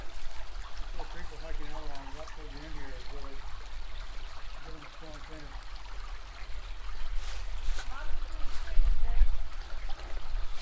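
Moccasin Creek flowing near a trailhead, a steady close rush of water that runs under the whole stretch, with voices talking over it at times.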